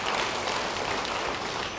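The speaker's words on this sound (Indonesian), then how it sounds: "beri tepuk tangan bagi dia." Church congregation applauding during a sermon, a dense, steady wash of many hands clapping at once that stays level and fairly close for the whole stretch, with no voices standing out.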